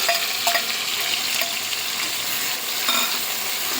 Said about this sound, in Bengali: খুব ছিটকায় পেঁয়াজ বাটা দিলে। পুরো পেঁয়াজ বাটাটা দিলাম।